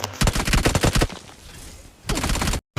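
BGMI (PUBG) battle gunfire: a rapid automatic burst of close shots for about a second, a pause, then a shorter second burst before a sudden cut.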